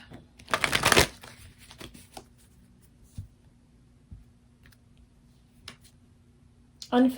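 A tarot card deck is shuffled for a pick-a-card love reading: one loud, dense riffle burst near the start, then sparse soft card taps and clicks, with a final brief burst at the end.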